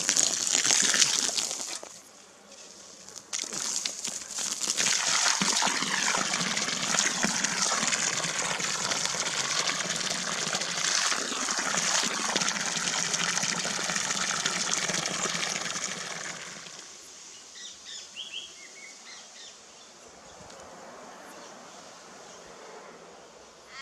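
Water gushes loudly into a freshly dug frog pond hole in a garden, pouring steadily for about fifteen seconds before dropping off to faint trickling and gurgling.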